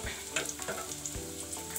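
Chopped onions sizzle in hot oil for a Kenyan pilau, a dense steady crackle broken by a few sharp stirring scrapes and pops close up, no voices.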